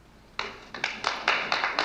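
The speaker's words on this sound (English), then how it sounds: "I love that they're just clapping." Several people clap in the film Escape from the Planet of the Apes, starting as a few sharp separate claps and swelling into a loose, uneven burst of applause that stays fairly close and clear.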